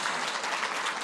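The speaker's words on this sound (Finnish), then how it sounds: "Huikeat aplodit nyt Marikalle erityisesti" Audience applause at a Finnish health institute event, a dense, even patter of many hands clapping for about a second with no voices.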